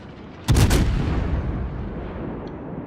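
Warship naval guns fire in World of Warships, a single loud booming volley close up that rolls off into a long fading rumble, with no voices over it.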